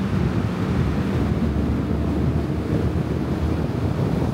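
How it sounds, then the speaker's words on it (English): Huge waterfall Nachi no Taki beside a shrine in Japan, a steady, loud, broad rushing roar with heavy low rumble and no talking. "So we found a shrine next to a huge waterfall."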